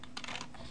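A brief flurry of computer keyboard keys struck while typing code, a few close clicks bunched together with no one talking.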